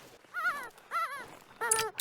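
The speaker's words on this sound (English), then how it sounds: "It's a female dog." A female hunting dog whimpers in The Hunter: Call of the Wild, three separate high, wavering whines spaced across two seconds. The whines are close and clear over faint game ambience, with no talk.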